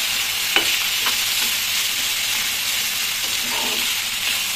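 Ivy gourd, kovakkai, fries in a pan with a loud, continuous sizzle and hiss. A few faint clicks of stirring sound through it, close up and steady.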